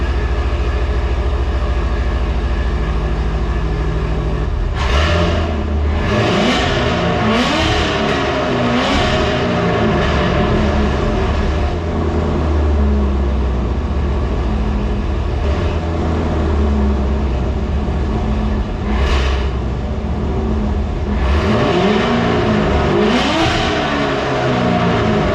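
A C7 Corvette on a cold start, its engine idling loud and steady while warming up, with a few sharp rev blips and surges breaking through the low rumble and no voices.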